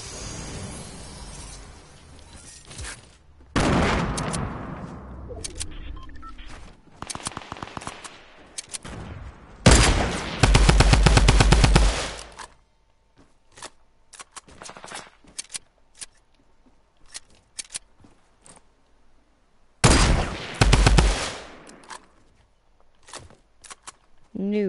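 Sniper rifle fire in a PS4 shooter game, with several loud, sharp reports arriving in separated bursts, interspersed with quieter game noise and clatter.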